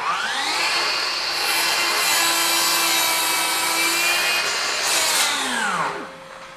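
FLEX 24V brushless 12-inch dual bevel miter saw (FX7141) making a through cut in a 3x4 piece of wood, a loud steady whine and rasping cut lasting several seconds, then the motor winding down, close by with no talking.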